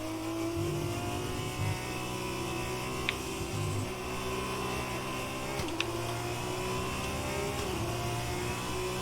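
Race car engine from the F1 2020 video game, a steady mid-pitched drone holding a continuous tone with slight pitch shifts and brief gear-change blips, loud and close with no talk.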